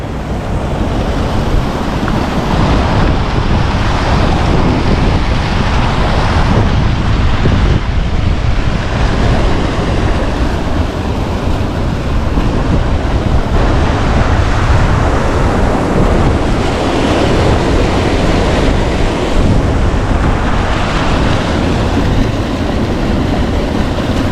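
Water rushes over a fish ladder at Tuckahoe State Park in Maryland, a loud, continuous broadband roar that holds steady throughout, with no voices.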